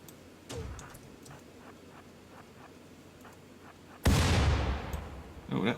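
Gunfire from raiders attacking a town in RimWorld: a sharp shot, then a string of faint distant pops, followed by a loud burst that trails off and a final shot.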